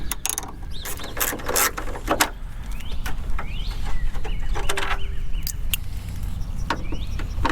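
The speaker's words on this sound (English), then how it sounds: "I'm gonna use a long extension with a size 8mm" A ratchet on a long extension with an 8mm socket works the headlight bolts of a Mercury Grand Marquis, giving bursts of rapid clicking over a low background of handling noise and soft clunks.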